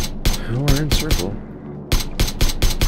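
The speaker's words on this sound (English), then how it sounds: "I hear gunfire." Sharp, repeated gunshot bursts in a video game, a cluster of shots followed by a brief pause and then another rapid volley, loud and close, with a faint voice briefly audible.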